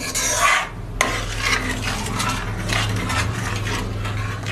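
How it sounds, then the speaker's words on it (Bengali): A spoon stirs milk in a pot on the stove as it simmers and reduces for kheer, a close scraping swirl with a sharp clink near the start and a soft bubbling sizzle beneath. "এবার নেড়ে নেড়ে ফুটিয়ে কমিয়ে নেব।"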